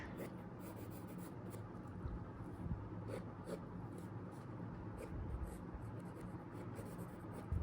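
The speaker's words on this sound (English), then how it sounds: "Now I'm pressing the pencil" A pencil sketching a realistic eye on paper gives a close, steady scratchy rasp of continuous strokes with small shifts in pressure, heard alone without talk.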